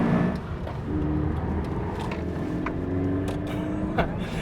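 A weight-stripped Toyota GT86 sports car at full throttle fills the cabin with a steady, loud engine drone that climbs slowly in pitch, with a rough low rumble underneath and no talk.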